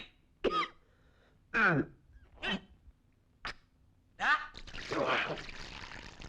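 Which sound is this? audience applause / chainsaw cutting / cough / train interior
cough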